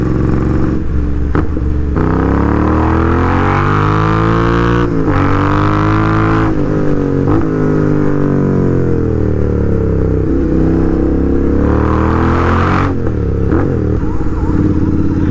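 A motorcycle with its exhaust baffles removed, ridden at night in Hyderabad, roars loudly and close, rising and falling through repeated revs and gear changes with a raspy, open exhaust note throughout.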